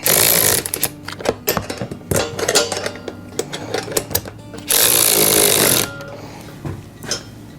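A power tool tightens bolts on a Vevor rolling garden seat for raised beds, firing in short rattling bursts, then one longer loud whir of about a second before it stops.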